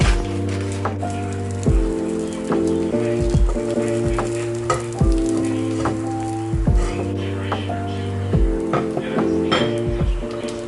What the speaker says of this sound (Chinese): 先开个中小火热黄油，等黄油化的差不多了，就把我冻在冰箱里面的面包放进去